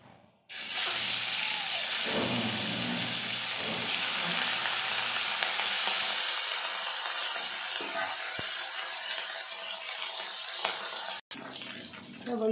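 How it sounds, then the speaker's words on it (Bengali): Hilsa fish frying in hot oil in a kadai for an uchhe ilish Bengali recipe, a loud steady sizzle and crackle that holds nearly unbroken throughout, with faint stirring touches and no talk. "তেল গরম হয়ে গেছে, এখন আমি মাছটা ভেজে নেব।"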